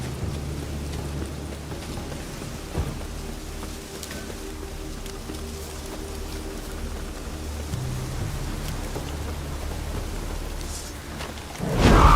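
Steady rain falling with low rumbling thunder in the video game The Witcher 3, an even wash of rainfall throughout with a deep rolling rumble and a louder surge at the end.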